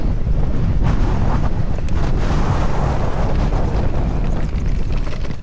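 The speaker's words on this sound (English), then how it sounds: "It's windy." Loud, constant wind buffeting roars across the microphone while riding a DJI e-bike, a thick low rumble with gusty crackles throughout.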